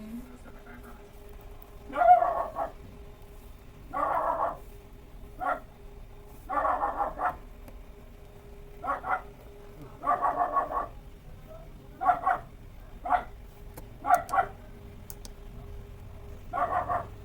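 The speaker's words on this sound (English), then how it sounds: "Oh, the dogs are really loud." Dogs barking repeatedly in short bursts at a moderate distance, with several voices overlapping at irregular intervals over a low steady hum.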